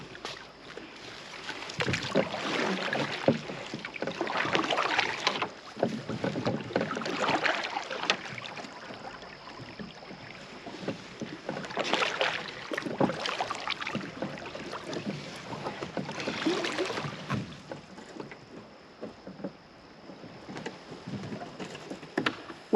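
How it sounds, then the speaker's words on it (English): Boat paddled through water, with rhythmic swishes and splashes of paddle strokes recurring every few seconds over a steady outdoor background, moderately close. "because you got to keep paddling."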